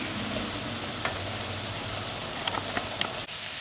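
Minced meat for bolognese fries in a pan with a steady, close sizzle that holds throughout, broken by a few sharp crackles and pops near the end.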